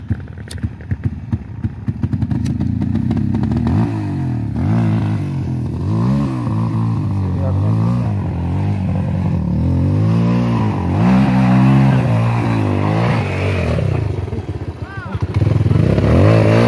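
A 250 motorcycle fitted with a 200 engine on an off-road trail ride in Ceará, Brazil, revving loudly and close with repeated rising and falling engine pulls, under some talk.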